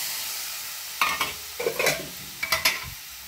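Tomato puree hits a hot frying pan with a steady sizzle, followed by several scraping stirs and soft spoon knocks, close up with no talk.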